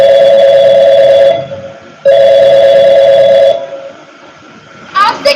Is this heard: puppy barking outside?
no